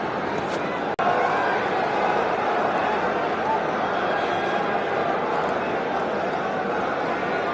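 A large stadium crowd at an India vs New Zealand one-day cricket match gives a steady, dense roar that holds evenly throughout, with a voice faintly present beneath it.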